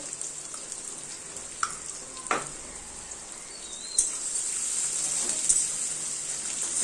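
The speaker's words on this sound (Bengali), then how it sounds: "পেঁয়াজটাকে পুরো ভাজা ভাজা করতে হবে" Onions fry quietly in oil with black cumin, garlic and chilli, a low steady sizzle broken by a few sharp clinks and scrapes, growing louder toward the end.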